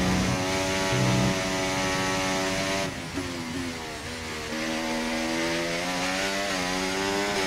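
An F1 car engine in the F1 24 racing game screams loud and high, revving with shifting harmonic tones that dip briefly and then climb again as the car accelerates, with no talk over it.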